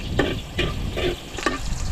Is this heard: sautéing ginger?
yes